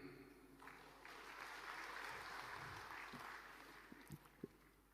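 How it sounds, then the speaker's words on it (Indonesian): A crowd at a presidential speech breaks into faint, distant applause that swells and holds for a few seconds, with a few sharper knocks near the end. "Jangan terlalu cepat tepuk tangan."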